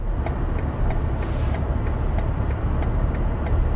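BMW X7 (G07) creeping forward on its own under the automatic parking assistant: a steady low engine and road rumble throughout, with faint periodic clicks and a brief hiss, no talk.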